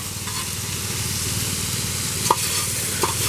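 Tomatoes cook in a hot pan for carp fajitas, giving a steady close sizzle and frying hiss, with a couple of faint clinks from stirring.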